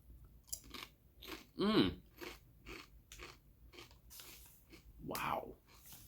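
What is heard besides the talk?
biting and chewing crunchy jalapeno potato chips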